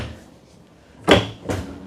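Soft-closing cabinet door with glass panels shutting in an RV kitchen, two muffled thumps about half a second apart, close and fairly loud against a quiet room.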